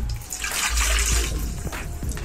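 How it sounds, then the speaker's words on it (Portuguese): Warm water poured into a container at the start of a soap-making process, a steady continuous splashing and gurgling pour close by, with no voices. "vamos despejar aqui no nosso recipiente 140 ml de água"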